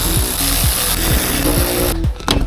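Ratchet wrench loosening the seat bolts on a Honda Prelude, a close, loud run of quick repeated clicks in an even rhythm ending in a brief clatter.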